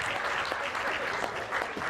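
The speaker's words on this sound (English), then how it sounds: "Big round of applause to them." A room full of people at a charity golf event, the 2021 Chi Chi Charity Classic, claps steadily, a dense, even patter of applause throughout with no talking over it.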